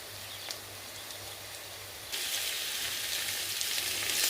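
Onions and eggs sizzle in smoked lard in a pan for a simple rural Ukrainian dish, a steady close crackling hiss that jumps sharply louder halfway through and stays loud, with no voices.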